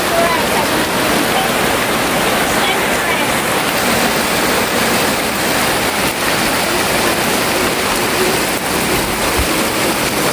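Heavy typhoon rain from Nando pours down steadily at a hut, a dense, loud, constant hiss of downpour drumming on surfaces close by, with no breaks.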